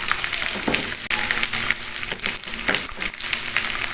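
Continuous crackling sizzle of round eggplant frying in hot oil, with occasional pops and stirring scrapes, close and steady.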